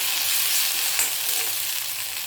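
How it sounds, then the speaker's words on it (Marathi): Ginger garlic paste sautéing with pink-fried onion in a pan, a dense, even hiss of frying heard close and alone. "दोन मिनिटं परतून घेऊया आलं लसूण पेस्ट"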